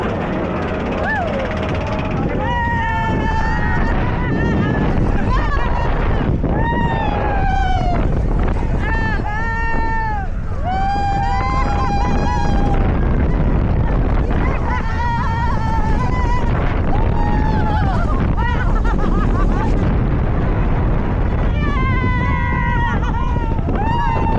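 Riding the Sierra Sidewinder spinning roller coaster at Knott's, running fast: a steady roar of wind rushes past while riders scream and shriek in rising and falling cries throughout.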